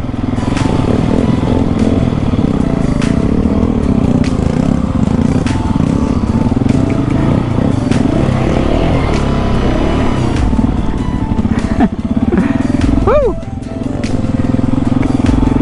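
A supermoto motorcycle on Pirelli Scorpion Rally tyres riding off-road through mud, its engine droning loudly and continuously with wind buffeting, ending in a quick rising rev.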